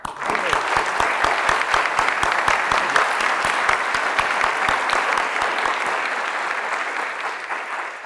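Sustained, dense applause from a large conference audience welcoming a guest speaker, many hands clapping at once, steady and close, easing slightly toward the end.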